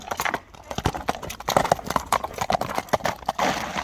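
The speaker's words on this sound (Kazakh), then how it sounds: "Ат жакшы ат экен." Hooves of a horse clip-clop in a quick, irregular rhythm close by, with a voice talking over them outdoors.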